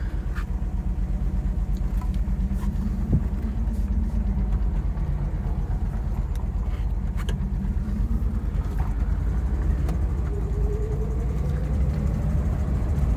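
A 1962 Bentley S2 Continental Flying Spur with HJ Mulliner coachwork on the move, its engine a steady, loud low rumble heard from inside the car, joined by faint road noise and a slowly rising whine.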